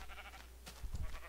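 Sheep in the Minecraft video game bleat in a short, wavering series over a steady background hum, ending with a few low bumps.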